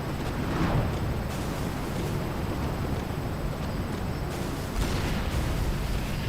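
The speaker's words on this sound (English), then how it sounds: "I would say meteors is worse because you're going to get fire along with wildfire, plus you get explosions and impact like that." Meteor impacts in The Universim video game, a continuous rumbling barrage of heavy explosions with deep booming blasts and fiery crackle, loud and sustained throughout.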